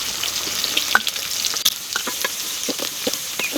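Onions hiss and sizzle as they fry in hot oil seasoned with cumin and mustard seeds, with a continuous crackle and occasional clicks and scrapes of stirring close by.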